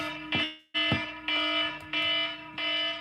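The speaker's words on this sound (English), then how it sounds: "my alarm clocks are going off to let me know my schedule" Several alarm clocks sound together in a loud, harsh, buzzing pattern of five repeated bursts with short gaps between them, close and alone without speech.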